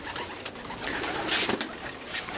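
Pigeons in a one loft race loft, soft cooing and bird calls close by over a dense, steady hiss of background noise, with a few sharper flutters or clicks.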